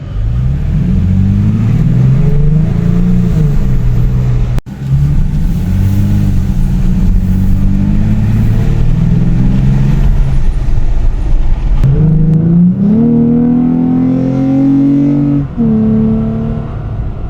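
A Toyota Tacoma truck engine with a Rough Country cold air intake revs hard, again and again, with a deep roar and a loud intake whoosh, close up and without talking.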